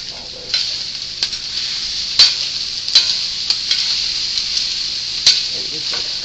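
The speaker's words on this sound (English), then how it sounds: "Let's go ahead and mix all this." Green beans stirred with about two tablespoons of apple cider in a hot pan for Bavarian green beans, a steady sizzle with scattered scraping clicks of the utensil, close and alone without talk.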